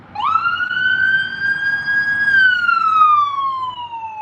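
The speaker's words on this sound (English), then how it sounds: "It's an ambulance." A siren wails as an ambulance passes outside, its tone rising and holding steady before gliding lower as it moves off, loud and continuous over faint background noise.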